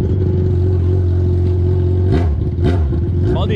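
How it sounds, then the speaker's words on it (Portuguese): A motorcycle passing close by on a drizzly evening street, its engine droning loudly and steadily, then rising and falling in a couple of quick revving sweeps near the end. "Se liga que vem moto aqui assim"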